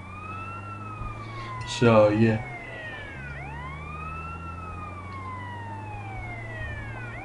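Ambulance siren in the video game GTA San Andreas, a steady rising-and-falling wail that continues throughout over an engine drone, with a brief burst of speech near the start.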